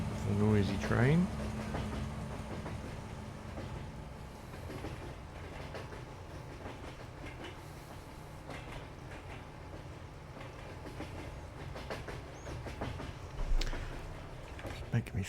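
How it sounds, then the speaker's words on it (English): A steady, loud rumble and rattle of a train rolling along the tracks continues throughout, with a brief voice near the start. "It's a noisy train."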